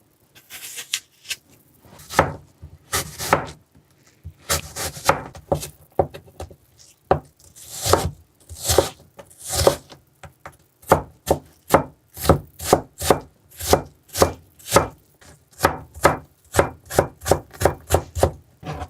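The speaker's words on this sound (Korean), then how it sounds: "남겨뒀던 그 재료 잘게 썰어주세요. 다져주세요." Knife finely chopping leftover sandwich filling ingredients such as cucumber on a cutting board, a steady run of rapid, close, crisp thwacks that quicken into an even rhythm with no talking.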